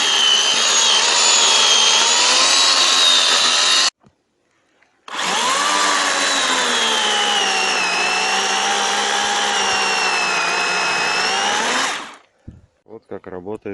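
An Interskol PTs-16-2000T electric chainsaw runs close by with a loud, steady high whine, cutting out briefly near four seconds, then droning on until it winds down near twelve seconds.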